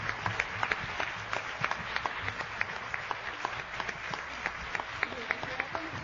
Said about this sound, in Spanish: Un aplauso al Señor por esta oración que nos ha regalado